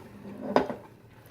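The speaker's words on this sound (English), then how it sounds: "I just put all of my onions, hopefully without major accident, into the crock pot" Chopped onions tipped from a container into a crock pot, a quick soft clatter and thump with a second small knock right after, close and brief in a quiet kitchen.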